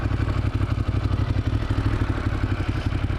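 Ducati Monster 1200 motorcycle ridden in sport mode in first gear at low speed, a steady loud engine rumble with rapid pulsing firing beats throughout, no talk.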